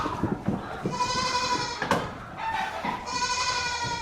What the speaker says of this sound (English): The 4 goats.